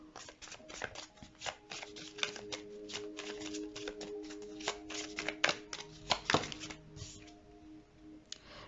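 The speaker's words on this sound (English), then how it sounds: "Let's get 2 more cards." Tarot cards are drawn and shuffled close by, giving a dense run of soft riffling snaps and light taps, with a few sharper slaps standing out.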